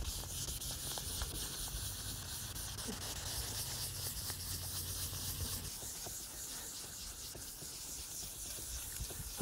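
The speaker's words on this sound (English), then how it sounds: "we've just about finished sanding the lens" Wet sanding of a plastic headlamp lens with soaked abrasive paper, a steady close hissing rub with no talk over it.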